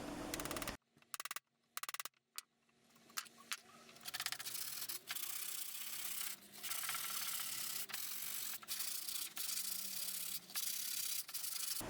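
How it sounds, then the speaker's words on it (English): Hand sanding a carved wooden Marine Corps emblem: after a few short stops and starts, a steady close scratchy rubbing of sandpaper on wood continues in long strokes, with no talking. "then hand sanded it all."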